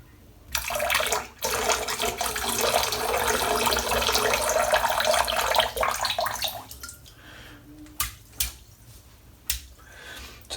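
Water squeezed from a 30mm shaving brush knot pours out in a strong steady splashing stream for several seconds, then trails off into a few scattered drips and small flicks.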